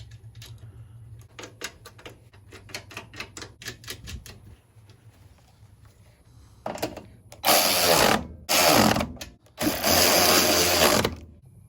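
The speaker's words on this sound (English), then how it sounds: "We're going to bolt this back down, put our lock nuts" A car's shock absorber is bolted back down with lock nuts and washers: light metallic rattles and ratcheting clicks, then three loud sustained bursts of a powered fastening tool, close by.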